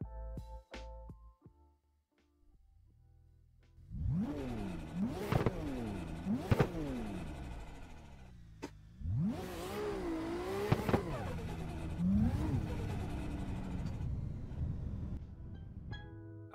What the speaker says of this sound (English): Oh, this car sounds fantastic too.